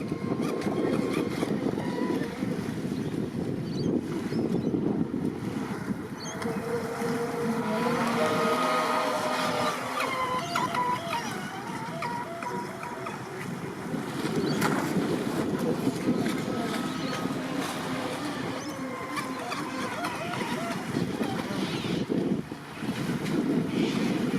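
A brushless RC boat motoring on the water, its motor whine rising and falling under heavy wind buffeting and lapping waves over a long stretch, with no talk.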